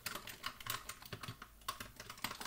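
Code being typed on a computer keyboard: quick, uneven bursts of close key clicks, fairly soft, with no speech.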